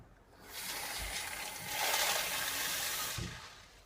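Water runs steadily over sprouting azuki beans during rinsing, a soft broad wash that swells and fades for a few seconds with faint clunks at the start and end, heard alone without talk.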